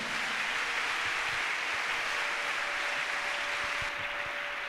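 A church congregation applauding, with steady, dense clapping that holds evenly throughout at a moderate level.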